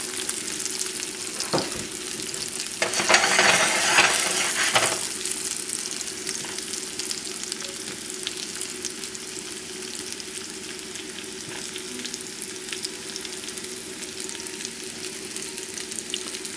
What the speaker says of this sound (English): By the time the potatoes brown on both sides, they'll be finished cooking.